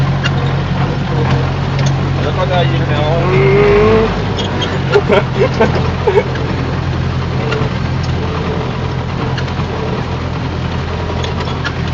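An MTZ-80 tractor's diesel engine drones steadily close by, rising briefly in pitch as it is revved before dropping back to a rumbling idle, with voices talking over it.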